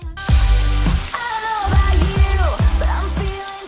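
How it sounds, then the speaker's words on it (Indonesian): Boiled salted squid is stir-fried in a wok. A loud, close sizzle runs under a series of sharp metallic scrapes and clanks from the spatula against the pan, about one every half second. "Sambil dioseng-oseng kita masukin cumi yang udah direbus tadi nih."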